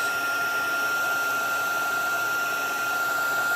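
A heat embossing tool blows a steady, even whir of hot air while melting embossing powder on paper hearts, a continuous close hum with no pauses and no talking.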